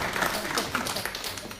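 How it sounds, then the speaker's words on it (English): Round of applause for a panel at a women-in-politics forum, dense clapping from a crowd filling the room steadily throughout, with some voices mixed in. "I would please ask you to do this by giving"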